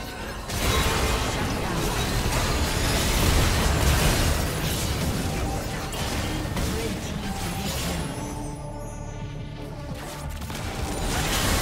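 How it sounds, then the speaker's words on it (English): A turret in a League of Legends match is destroyed in a loud, dense burst of explosive game effects that rumbles on for several seconds, layered with mechanical clatter and a ringing tonal sweep near the end. "Team's turret has been destroyed."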